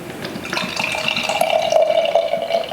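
Carbonated drink from a year-old can is poured into a glass, a steady close pouring and fizzing sound with a rising ringing tone as the glass fills, running for about three seconds without talk.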